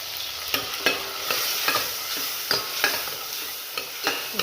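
Tomato and turmeric fry in a pan, a steady sizzle broken by repeated scraping stir strokes at an irregular rhythm, close and clear with no talking.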